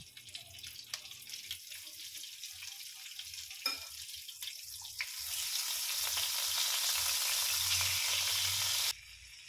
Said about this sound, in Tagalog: Yung star margarine, maglalagay din tayo para mas lalong mabango.